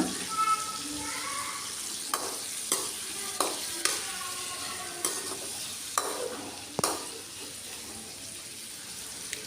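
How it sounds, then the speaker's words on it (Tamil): Cut mango sautéing in masala in a pan for a fish curry: a soft sizzle under repeated, evenly spaced sharp spatula knocks against the pan, close by, with a few faint background sounds. "நம்ம கட் பண்ணி வச்சுருக்கிற மேங்கோ எடுத்து அதில் போட்டுட்டு கொஞ்சம் வதக்குங்க."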